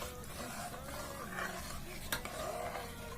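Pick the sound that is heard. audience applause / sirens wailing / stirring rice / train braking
stirring rice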